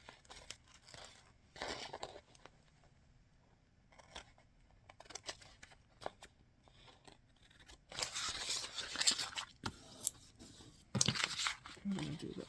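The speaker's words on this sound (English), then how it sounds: "just going to take my handy dandy scissors and trim that off." Scissors trim DTF transfer film in a series of crisp snips and papery crinkles. The cuts come in irregular bursts, louder toward the end, with a person speaking quietly in between.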